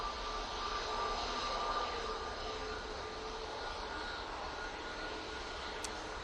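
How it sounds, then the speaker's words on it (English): An EasyJet airliner taking off at Manchester Airport, a steady distant jet-engine roar holding evenly throughout with no talk. "There goes the EasyJet off to Kos."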